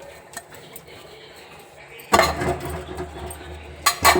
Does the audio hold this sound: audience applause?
no